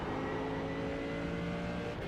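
A Mercedes GT3 Evo race car engine in iRacing at Laguna Seca, a steady loud mechanical drone with held tonal harmonics, continuous throughout and not broken up by talk.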